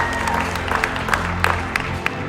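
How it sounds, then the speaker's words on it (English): A conference audience applauds together in a short burst of dense clapping, with a few sharp claps standing out and faint crowd murmur underneath. "one more time, round of applause for everyone who put this together, everyone who planned this"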